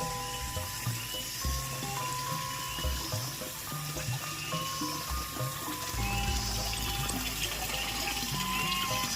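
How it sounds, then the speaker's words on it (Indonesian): Clear water streaming steadily through a village irrigation channel, a continuous close rushing and burbling flow with no voices, alone throughout. "Airnya surcor banget di sini"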